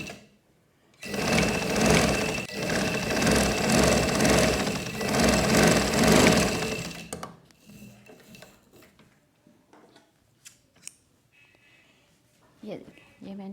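Sewing machine stitching fabric for a girl's umbrella frock, a rapid steady whirring and clatter running for about six seconds, then stopping; afterward scattered handling clicks and someone speaking quietly.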